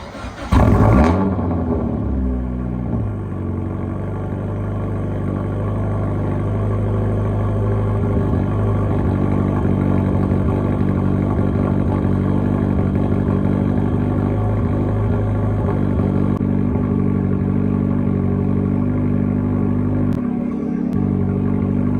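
A turbocharged Mazda Miata engine cranks and fires, then settles into a steady, fairly loud idle that runs on unchanged, with no voices.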